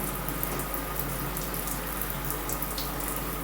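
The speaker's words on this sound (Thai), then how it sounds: "ถ้าอย่างนั้นพี่อาบน้ำก่อนดีกว่านะทุกคน" Shower water runs steadily and close by in a home bathroom, a constant hissing spray with light splashing and no voices.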